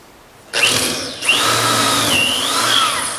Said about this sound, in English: drill this all the way through.